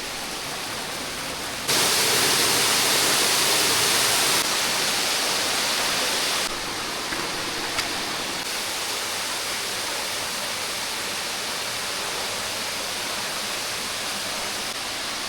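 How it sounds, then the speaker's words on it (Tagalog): Broadband rushing roar of a waterfall, steady and loud throughout with a brief surge in intensity near the start, no voices over it. "Sobrang peaceful talaga dito sa falls."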